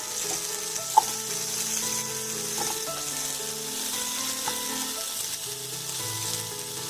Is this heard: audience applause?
no